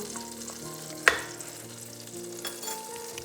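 Amul butter, about two spoonfuls, sizzles and crackles steadily in a hot pan as it melts, with a sharp clink of a utensil early on and soft stirring after.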